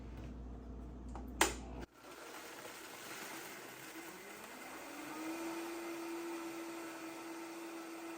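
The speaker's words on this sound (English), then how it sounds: "Put it on the blender and then blend." A blender mixes a caramel macchiato frappe, starting with a sharp click and then running as a faint, steady motor hum whose pitch rises and settles into a constant whir.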